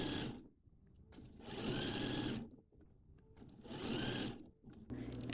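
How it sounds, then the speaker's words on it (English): A sewing machine stitches down the tabs on a pair of shorts, two sustained runs of loud, close whirring separated by pauses, with a third burst starting at the end. "I'm also quickly going to stitch my tabs."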